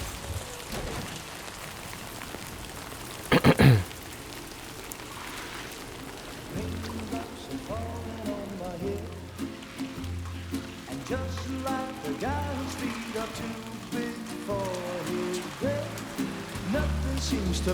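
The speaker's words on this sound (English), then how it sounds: "Raindrops are falling on my head, they keep falling." Rain patters steadily in a farming video game, a soft continuous wash of drops with a brief louder burst early on, while a person talks over it.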